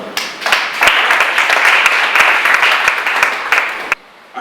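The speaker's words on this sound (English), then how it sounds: "Can you clap for me?" An audience at a farmers multipurpose cooperative meeting breaks into loud, sustained applause, dense clapping that fills several seconds before stopping abruptly.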